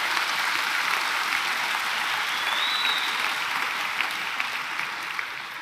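A church congregation applauds Jesus during a Portuguese-language sermon, a dense, even wash of clapping from many hands held at steady volume, easing slightly toward the end.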